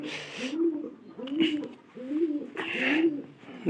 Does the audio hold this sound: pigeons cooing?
yes